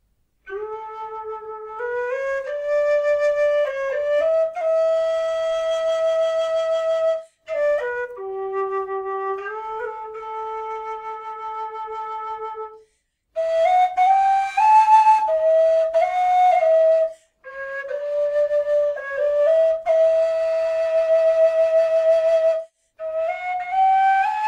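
An affordable low D whistle plays a melodic tune. The notes are clear and sustained, moving up and down in pitch, with short pauses between the phrases. It is close and steady, with no voices.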